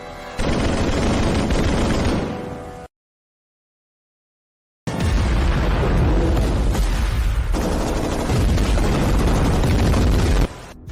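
An animated battle roars with dense, loud gunfire and explosions, a sustained barrage that cuts to silence for about two seconds before resuming just as heavy.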